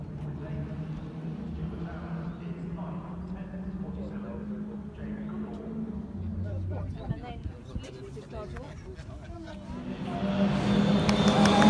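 Mini Cooper S race cars at a Donington Mini Challenge race start, engines droning and then swelling louder toward the end while people talk over the noise.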